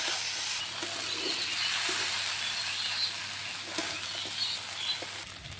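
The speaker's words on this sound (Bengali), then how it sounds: "তো অবশ্যই খুব ভালো করে কিন্তু কষিয়ে নিতে হবে মশলাগুলোকে" Spice masala frying in a pan gives a dense, steady close sizzle throughout, with a few faint stirring knocks beneath it and no talking.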